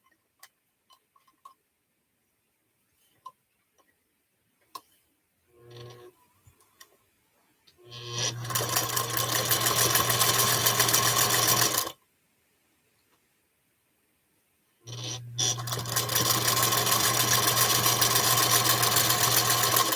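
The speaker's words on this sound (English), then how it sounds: "Gotta sew my 4 patches together." A sewing machine stitches four-patch quilt blocks of half-square triangles in two sustained, steady runs of humming mechanism with a low motor tone, separated by a pause, after a few scattered ticks and handling clicks.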